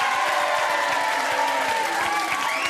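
A small group of family and friends claps steadily in a room right after a guilty verdict is read. The applause is dense and continuous at close range, with faint chatter underneath.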